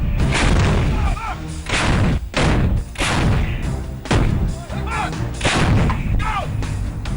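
Heavy artillery fire from M777 howitzers and Bofors guns, a series of loud booming blasts roughly every second or so, each with a sharp onset and rumbling decay, near and continuous throughout.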